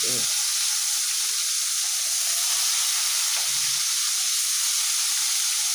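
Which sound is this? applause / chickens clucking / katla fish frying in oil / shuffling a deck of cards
katla fish frying in oil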